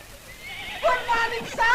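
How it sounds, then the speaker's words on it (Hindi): A black racing pony neighing at a racecourse: a short, rising whinny followed by a second call, heard over background talk. "ये काली वाली खूब हिनहिनाती है।"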